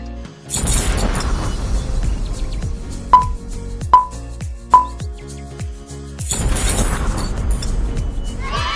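A rapid clattering cascade of popsicle sticks in a chain reaction snapping and scattering apart, with a few sharp tonal pops in the middle, then another burst of clatter.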